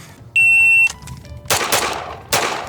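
Three shots from a 1911 pistol fired in a Mozambique drill, two to the body and one to the head, loud sharp cracks outdoors, preceded by a shrill electronic start beep from a shot timer.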